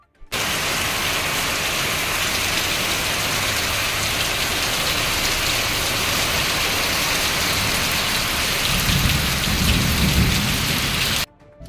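Heavy rain pours in a steady, dense hiss over Yeola town, and a deep rumble swells briefly near the end.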